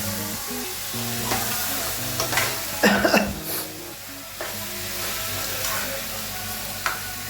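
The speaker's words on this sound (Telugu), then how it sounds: "మటన్ వేసి చూడండి ఆల్రెడీ మటన్ చేసుకున్నాం కదా మటన్ వేసి కలపాలి" Cooked mutton is stirred in an electric rice cooker, giving a continuous sizzle with spatula scrapes and one louder clattering stir partway through, with no voices.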